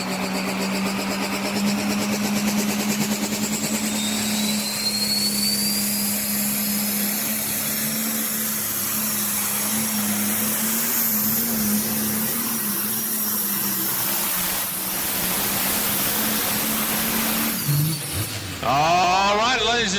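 The Dixie Deere pulling tractor from Lawrenceburg, Tennessee, runs a truck and tractor pull at Ardmore. Its engine holds a loud, sustained, droning roar with a high whine for about eighteen seconds, then falters and surges near the end.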